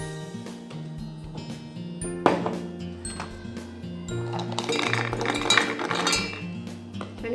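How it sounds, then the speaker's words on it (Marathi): About 20 to 22 peeled almonds tipped into a steel mixer jar, irregular small clinks and taps of nuts and metal, with a sharper clatter midway and busier rattling toward the end. "आता हे मी मिक्सरच्या भांड्यामध्ये ट्रान्सफर करते।"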